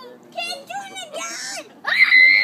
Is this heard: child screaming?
yes